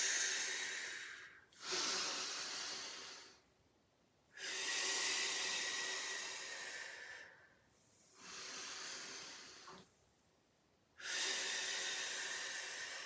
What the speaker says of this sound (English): Inhaling through the nose, exhaling through the mouth or through the nose